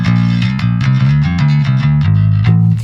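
Bass guitar played through a 10-inch bass speaker with a horn, a loud, punchy, slightly gritty tone with a clanky top end, notes changing in a steady rhythmic line with no talking.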